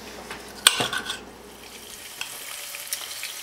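A sauce sizzles and bubbles in a pan for a Moroccan liver dish, soft steady frying with a sharp clink of utensil against the pan early on and light stirring scrapes.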